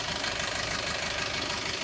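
A Datsun Go car engine, freshly overhauled, idles steadily after starting, with a continuous mid-pitched hum and a faint rhythmic knock running through it. No voices are heard.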